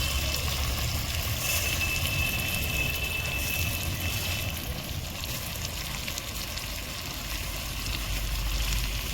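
Bhog rice tipped into chicken frying in a pan with spices and peas gives a steady, close, dense sizzle and crackle that holds for several seconds, with no voice over it.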